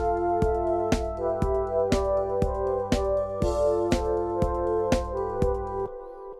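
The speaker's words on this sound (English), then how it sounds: "I found some really good disco vintage drums" Vintage disco drum loop with a bass line: steady four-on-the-floor kick on every quarter note, crisp hi-hats and a bouncing bass, clean and mid-level, cutting off near the end with no talking.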